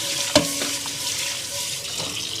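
Water runs and splashes while a still-hot pan is washed at a sink, a steady hiss with a sharp clatter or sizzle burst near the start.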